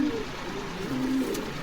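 Pigeons cooing in a cage at a pigeon farm in Bogura, soft low coos repeating close by over a murmuring background.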